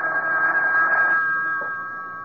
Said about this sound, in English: A couple of hours later, the phone rang.